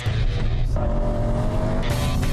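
A four-wheel-drive toy car buzzes as it accelerates and slides, its small motor whining with a steady tone and then surging sharply toward the end.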